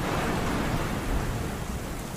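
Steady rain with wind, a dense broadband wash that stays even and unbroken through the short stretch, with no voices.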